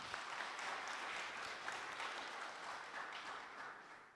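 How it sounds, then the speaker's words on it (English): Audience at a health summit conference applauding the speakers, a soft, distant, steady wash of clapping that gradually tapers off toward the end. "A big round of applause to our speakers"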